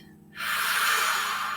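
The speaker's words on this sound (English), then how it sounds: "And then breathing out" A slow, calm breath out during a guided harp meditation: a soft, steady rush of air that starts after a brief quiet moment and carries on evenly, close and gentle, with a faint low tone underneath.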